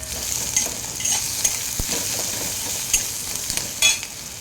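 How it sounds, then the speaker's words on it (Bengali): Onions fry in oil until reddish, sizzling steadily up close while a utensil scrapes and clinks against the pan now and then. "পেঁয়াজটা আমার লাল করে ভাজা হয়ে গেছে"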